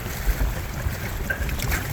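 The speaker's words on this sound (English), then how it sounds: "It's making a little noise because I gotta move my motor up." Outboard motor on a 16-foot sailing outrigger canoe, mounted too low so it makes extra noise, a steady rushing drone mixed with wind and water noise close to the microphone.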